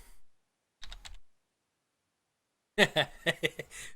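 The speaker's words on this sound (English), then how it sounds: "Sorry, I'm typing." Computer keyboard typing comes in two bursts of quick clattering keystrokes, a short cluster early on and a denser run near the end, close and crisp against silence.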